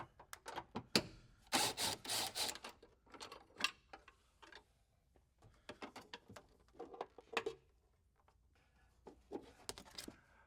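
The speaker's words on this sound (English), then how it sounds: "take the factory bracket off with another 10 millimeter" Wrench working the 10 mm bolts of a factory battery bracket on a Toyota Tacoma, a series of close, sharp ratcheting clicks and metallic taps in irregular bursts.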